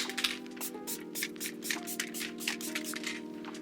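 Quick, hissing spritzes of Danessa Myricks Blurring Setting Spray repeat in rapid bursts close by, with a faint steady hum in the background.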